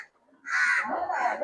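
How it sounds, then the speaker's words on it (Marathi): Crows cawing nearby, a couple of harsh, overlapping calls following a brief quiet moment, loud and close, on a nature trail at Malabar Hill, Mumbai. "पक्ष्यांचा आवाज येतोय"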